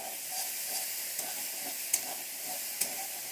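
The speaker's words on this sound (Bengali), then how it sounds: "মশলাটা কষানো হয়ে আসছে" Bengali spice paste sizzles and fries in a pan for koi fish curry, a steady hiss with soft stirring scrapes and a few sharp spatters popping out, no voices.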